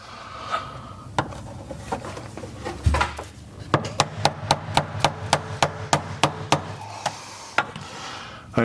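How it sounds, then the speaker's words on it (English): A hammer strikes a flathead screwdriver to knock a Ford Transit fuel tank part back into place, about a dozen sharp metallic taps in a steady rhythm, close by, after some scraping and handling. "take your flathead screwdriver and your hammer and beat this back into place."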